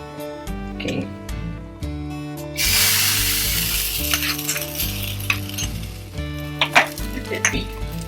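Spices sizzling and crackling in hot ghee for a sambar tadka, a steady loud frying hiss with utensil clinks and scraping stirs, and soft music-like tones running underneath throughout.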